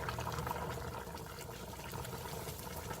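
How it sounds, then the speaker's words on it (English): Broth being poured through a strainer to catch garlic while cooking chicken with roasted rice powder, a steady, quiet liquid trickle and splash that runs continuously without pause. "I'm going to strain out some of the broth."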